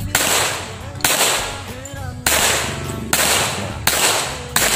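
Gunfire from Philippine Army soldiers practising at a firing range, heard as loud reports spaced about a second apart, each followed by a long rolling echo.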